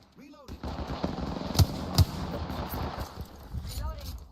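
Rapid automatic gunfire in a sci-fi shooter video game, several bursts with two sharp loud shots standing out midway, layered over game effects and mechanical whirs, with a voice talking underneath.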